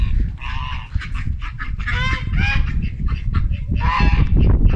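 Several farmyard geese honk loudly and close by, overlapping nasal calls in bursts over a low rumble of background noise, with ducks nearby.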